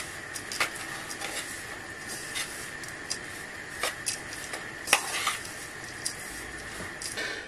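A spoon stirs a mixture with added cinnamon in a bowl, producing faint, irregular clinks and scrapes against the sides, a light tap roughly every half second over a quiet background.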